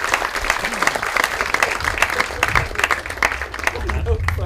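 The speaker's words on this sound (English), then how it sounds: "Let's give him a big round of applause." Audience applause at a military weekend event at Eisenhower National Historic Site, steady broadband clapping from a crowd throughout, fairly loud and continuous.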